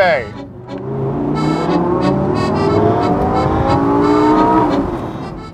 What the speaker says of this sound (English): I'm driving a 2014 BMW M6 Gran Coupe.